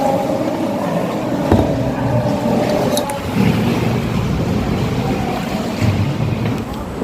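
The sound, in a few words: big ocean waves around kayak near sea cave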